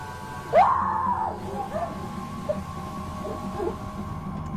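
A woman in a shop lets out a single intense, rising scream that breaks off within a second, followed by faint background murmur.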